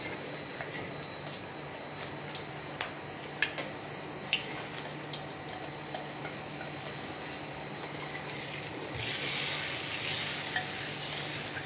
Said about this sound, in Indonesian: Oke, ini kita tumis